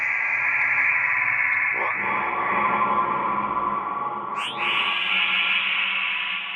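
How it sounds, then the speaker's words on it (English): Synth atmosphere patch in Bitwig 4.3 run through a ping pong delay, a sustained shimmering pad with pitch sweeps rising near two and four seconds and echoing repeats, steady and loud with no voices. "and we finally have ping pong delay in Bitwig"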